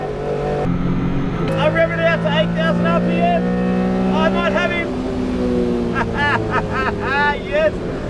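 A Fairlady Z 240Z fitted with a GT-R engine revs hard toward 8,000 RPM on a track, loud and close, its engine note climbing through repeated rising sweeps between shifts.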